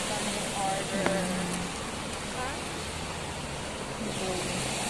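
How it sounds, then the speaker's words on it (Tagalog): Steady heavy rain pours down in a dense, even hiss, fairly loud and continuous throughout, with no breaks. "Malakas kasi yung ulan dito."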